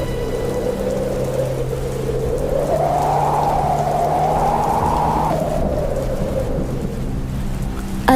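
Heavy rain pouring steadily with rumbling thunder during a storm strong enough to flip umbrellas, a dense continuous wash of sound with a low swelling roll, no voices.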